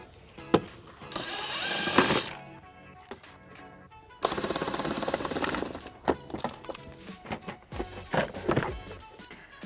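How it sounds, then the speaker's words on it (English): A socket wrench ratchets off plastic nuts from a panel on a 2014 Kia Sorento, with bursts of rapid buzzing clicks and separate sharp ticks at close range. "we're going to use a 14mm socket to remove the plastic nuts"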